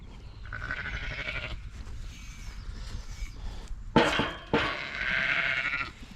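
Lambs and sheep bleating on a farm, several loud, close, wavering cries in succession, the calls overlapping near the end, with no talking.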